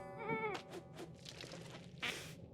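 Sheep bleating in the video game Phobies: a short, wavering bleat rings out clearly, followed by softer breathy bleats and a final sharper cry.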